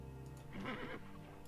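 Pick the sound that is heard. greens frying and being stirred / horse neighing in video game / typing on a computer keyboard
horse neighing in video game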